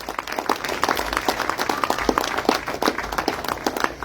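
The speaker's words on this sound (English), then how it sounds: "I want to give her a round of applause for that." Applause from the audience at a public political meeting of the Progressive Empowerment Party, a dense patter of many hands clapping steadily and fairly close for about four seconds with no talking.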